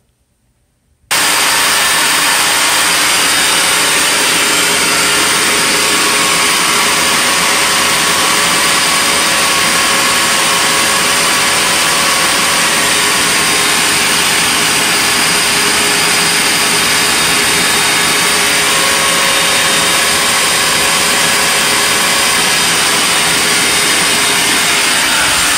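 A Shop-Vac 5 gallon, 2 peak HP vacuum starts after a moment of silence, then runs loud and steady with a constant high whine and rushing airflow during a suction test through a reducer.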